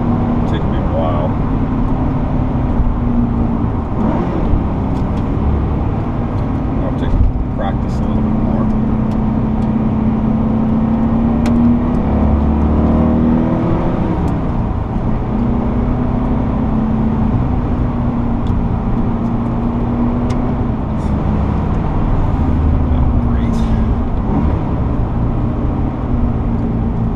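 A 1981 Porsche 928 with a five-speed manual engine drones steadily from inside the car while driving, revs swelling and easing, loud and continuous beneath someone talking throughout.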